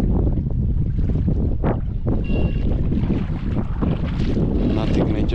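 Steady wind buffeting the microphone beside a reservoir in Ireland during a pike fishing session, a loud continuous rumbling roar with gusty swells and no other sounds standing out.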